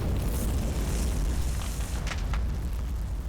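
Smoke launchers popping smoke in the Combat Mission: Red Thunder war game, a few soft bursts near the two-second mark over a constant low rumbling battlefield drone.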